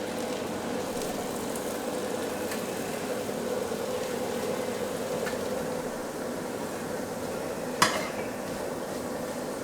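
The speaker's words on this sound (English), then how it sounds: "All my little chopped up shrimps here, so get those in the butter" Chopped shrimp cooking in butter in a pan, a steady soft sizzle with faint stirring and a single sharp clink of a utensil near the end.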